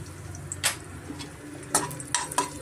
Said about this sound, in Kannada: ಫ್ರೈ ಮಾಡ್ಕೊಳ್ಳೋಣ ನೋಡ್ರಿ ಗೋಡಂಬಿ ಸ್ವಲ್ಪ ಫ್ರೈ ಆದ ತಕ್ಷಣ ನಾವು ದ್ರಾಕ್ಷಿ ಸೇರಿಸ್ಕೋಣ